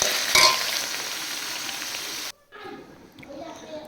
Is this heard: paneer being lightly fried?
yes